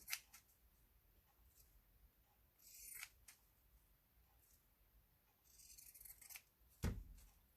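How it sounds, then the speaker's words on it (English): Pinking shears cut through paper in a few sharp, close snips with quiet gaps between, followed by a louder thump near the end. "let me use my pinking shears"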